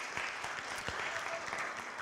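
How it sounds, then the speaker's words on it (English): Faint applause from a synagogue congregation at an annual meeting, a soft continuous patter of many hands, distant and low in level. "Now you can applaud"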